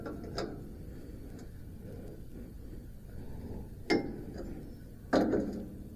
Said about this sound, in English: that's an awful sound, folks. It's like a bearing crunching.